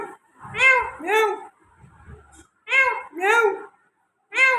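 A voice imitates a cat, calling out repeated meows in two-syllable bursts separated by short pauses, close and clear, with faint household sounds in the gaps.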